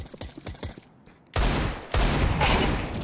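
Bursts of rapid gunfire crackle loudly in Counter-Strike 2, preceded by a few quick shots, with a brief silence between the volleys.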